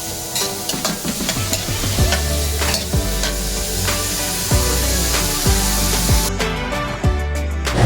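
Tomatoes and other ingredients for ginataang pako, edible fern in coconut milk, sizzle loudly in a pan while being stirred, with repeated scraping strokes of the utensil about once a second over a constant frying hiss.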